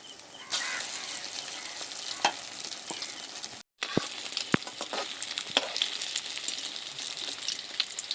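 Flour and potato snacks frying in a kadai, a loud, continuous hiss of oil with crackling pops and a few sharp clicks, broken by a very short silent gap partway through.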